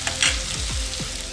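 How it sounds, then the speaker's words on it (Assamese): Carrots and chicken sizzle in a hot pan while being stirred, a close crackling hiss broken by several quick scraping strokes of a utensil across the pan. "গাজৰ আৰু মাংসবিলাক ভাজি ল'ম।"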